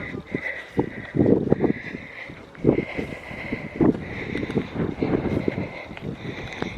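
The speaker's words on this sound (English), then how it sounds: "it is blowy." Gusty wind buffets the microphone on the CCC trail in Palo Duro Canyon, uneven bursts of low rumbling rushes rising and falling over a few seconds, close and fairly loud.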